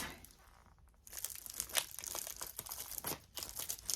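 Cellophane wrapping a jumbo lollipop crinkles and crackles up close as it is twisted and taped, a dense run of sharp rustles after a quieter start.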